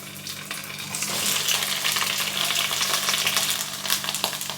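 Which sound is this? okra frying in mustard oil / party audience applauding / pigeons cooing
okra frying in mustard oil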